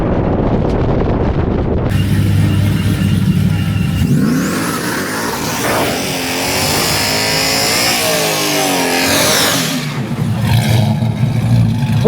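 A Mopar drag race car's engine revs loud and close at the track, roaring continuously with rising and falling pitch sweeps as the throttle works, no talk over it.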